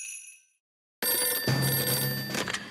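A telephone in a French cartoon rings with a loud, bright, sustained electric bell that starts abruptly after a brief silence and keeps trilling steadily.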